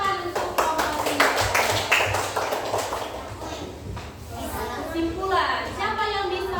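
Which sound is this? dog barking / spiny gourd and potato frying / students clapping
students clapping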